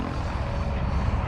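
A Freedom Piuma model helicopter flying nearby at low head speed, its rotor and motor making a steady, loud droning whir for a brief moment.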